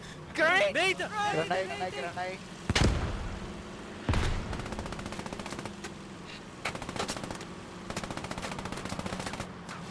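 Gunfire in the Squad 44 shooter game: a voice talks briefly at first, then sharp heavy shots and rapid machine-gun bursts rattle out in repeated volleys, moderately loud.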